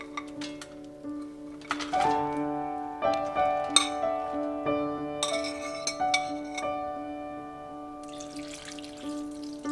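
Chicken, ginger and dried herbal ingredients dropped into a pot for Chinese herbal chicken soup, a run of clinking, knocking and ringing taps against the pot, close and fairly bright, over a faint steady background tone, with no talking.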